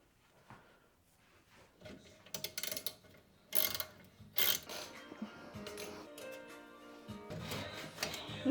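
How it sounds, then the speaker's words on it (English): A ratchet from a socket set turns during DIY work on cupboards, producing a few quiet clicking bursts and mechanical rattles around brief louder clatter, with no talking. "Okay, I need to go get my socket set."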